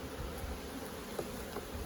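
Honeybees inside a hive wall cavity during beekeeping work give a steady, close, low droning hum that continues without a break, with no voices.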